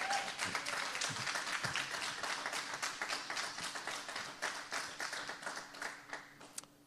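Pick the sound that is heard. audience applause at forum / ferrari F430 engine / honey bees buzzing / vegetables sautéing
audience applause at forum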